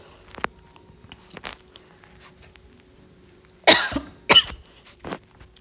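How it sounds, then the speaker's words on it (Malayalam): A person coughs during a home cooking voice-over, with a few faint soft coughs early on, then two loud close coughing bursts near the end and a smaller one after, with no talk. "നല്ല ചുമയുണ്ട്, വോയിസ് ഓവർ കൊടുക്കുന്നതിനിടയിൽ നല്ല ചുമ വരുന്നുണ്ട്."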